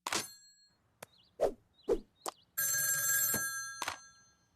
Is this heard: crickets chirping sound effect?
no